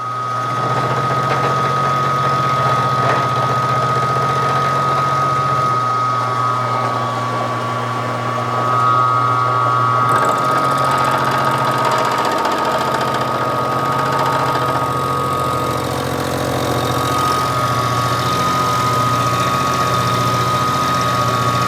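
A milling machine cutter cutting metal, a steady loud mechanical drone with a constant high whine and a running low hum, continuous and close with no voices.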